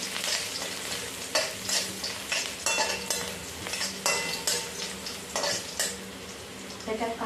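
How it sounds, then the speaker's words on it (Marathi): Crushed garlic sizzles steadily in hot oil while being stirred, with repeated scraping strokes of a spoon against the pan breaking through the constant close frying hiss. "लसूण लाल करून घ्यायचे जरा परतून घ्यायची लसूण चांगली लालसर अशी"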